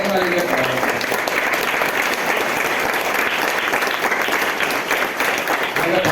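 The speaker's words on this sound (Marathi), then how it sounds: "या टाळ्या सगळ्यांच्या हृदयातून आलेल्या आहेत, काळजातून आलेल्या टाळ्या" A crowd at a music program at a foundation claps continuously and vigorously throughout, a dense, even wash of applause with no break.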